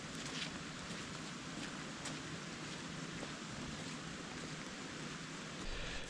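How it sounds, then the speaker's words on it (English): Heavy rain pours down steadily on a camping spot in the lower Blue Mountains, a broad, even hiss that stays faint and constant throughout with no voices. "Next minute it is just pouring down."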